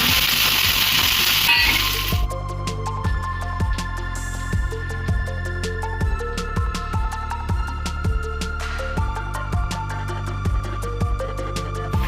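Green chillies and raisins frying in a pan, a loud burst of sizzling at the start settling into steady crackle with rhythmic spatula scrapes and taps, no talking.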